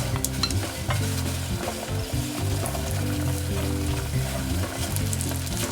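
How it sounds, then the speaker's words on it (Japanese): Butter sizzles steadily in a heated frying pan on the stove, a loud, continuous crackling fry with faint stirring and no talk. "フライパンに火をつけてバターを入れます。"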